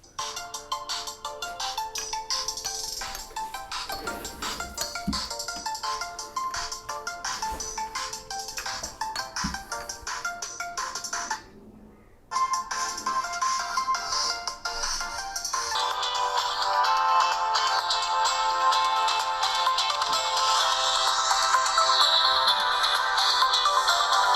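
An Elephone PX phone's single bottom-firing speaker plays a YouTube video. The sound is bright and tinny, with music-like tones running continuously, a brief dropout partway through, then fuller playback.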